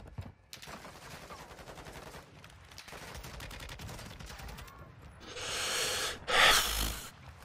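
Bursts of automatic gunfire sound in the Warzone 2 video game during a solo quads match. Scattered game noise leads into two loud, dense bursts of rapid fire near the end.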